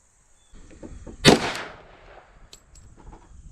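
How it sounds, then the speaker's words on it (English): A single loud, close gunshot from a 10mm pistol firing Sinterfire NXG ammunition at an outdoor target cracks out and decays over about half a second, followed by faint clicks. "Let's shoot at the top right target."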